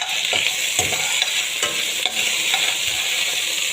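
Ginger and green chilli sizzle loudly in hot coconut oil, a dense continuous crackle with a few spoon stirs breaking through, close and without speech.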